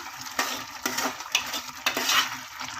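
A ridge gourd and moong dal stir-fry is turned in a pan, with a spatula scraping and clinking against the metal in several quick strokes over a light background sizzle.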